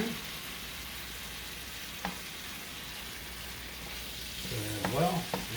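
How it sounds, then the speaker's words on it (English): Curry shrimp and red peppers stir-frying in a pan, a steady soft sizzle with a single utensil tap early on and louder scraping stirs near the end. "Stir well around. Get it going a bit."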